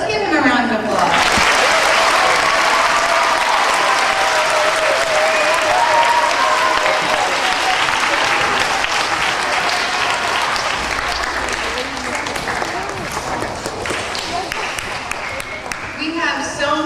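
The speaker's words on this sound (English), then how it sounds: "let's give him a round of applause" A large audience at a talk about the photographer Gordon Parks gives a long, loud round of applause that carries on for well over ten seconds, easing slightly near the end, with faint voices mixed in.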